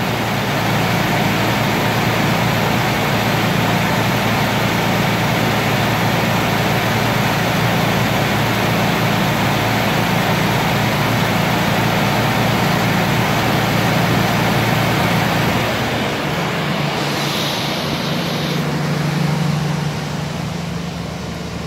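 A carbureted 1989 Jeep Wrangler idles steadily through a cold-start warm-up, a constant loud engine drone with a low hum that holds throughout, shifting slightly in tone near the end.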